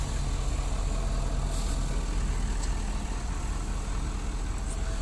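A 2012 Ford F-350 Super Duty with a Power Stroke diesel engine idles close by, giving a steady low rumble with an even, unbroken drone and no voices.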